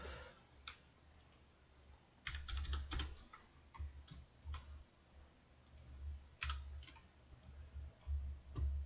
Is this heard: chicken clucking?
no